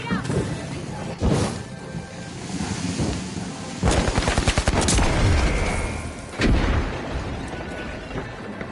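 A grenade blast and gunfire in the video game The Finals: rolling explosive booms and rapid crackling shots, loud and dense, with a voice talking over parts of the chaos.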